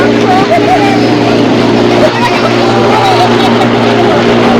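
A boat cruising at sea off Bandar Al Khairan, Oman, with a loud steady engine drone and rushing wind and water noise filling the whole stretch, close and continuous.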